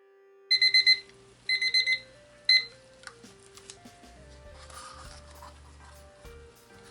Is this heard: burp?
no